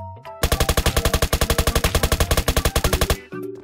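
Rapid automatic gunfire in Roblox Apocalypse Rising 2, a loud, close burst of about thirty evenly spaced shots over roughly three seconds, standing alone with no talk.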